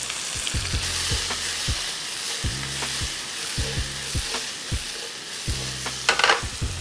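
Chopped vegetables sizzle in a frying pan with a constant hiss, broken by repeated low knocks and scrapes of stirring, close and clear with no voices.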